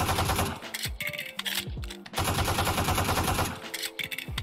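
A skinned gun fired in the shooter game Valorant, loud rapid bursts of gunfire in several quick volleys with brief gaps, over a faint voice.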